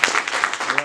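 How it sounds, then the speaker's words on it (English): Audience at a book launch applauds guest speakers, with a short burst of scattered hand claps, fairly close, while a voice speaks over them. "Can we just give a round of applause for our guest speakers?"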